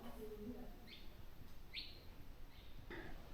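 Small birds give a few short, faint chirps spaced out over steady low background noise inside a flooded cave in Mexico.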